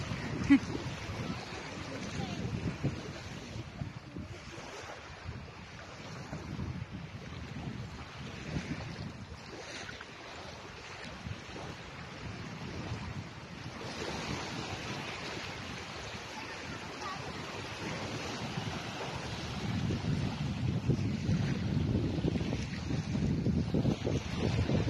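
Out at sea aboard a boat, wind buffets the microphone over a steady wash of waves that swells louder toward the end, with voices heard now and then beneath.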